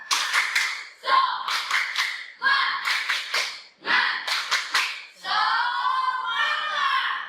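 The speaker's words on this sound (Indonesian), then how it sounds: "Baik, tepuk semangat." Schoolchildren in a primary classroom perform a spirit clap, rhythmic groups of sharp claps in patterned bursts alternating with children chanting together in unison, loud and close.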